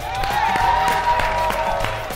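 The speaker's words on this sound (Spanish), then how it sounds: "Un aplauso" A television studio audience on a Nickelodeon snack show applauds briefly with a regular clapping pulse over a steady musical tone, lasting about two seconds.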